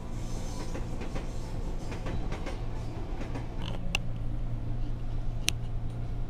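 A KRL commuter train at Manggarai station rumbles with steady mechanical drone, punctuated by creaks, metallic squeals and a few sharp clicks of rolling stock.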